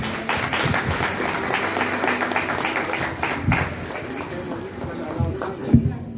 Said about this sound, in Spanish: fuerte los aplausos ya que dijeron sus palabras aquí la quinceañera y su mamá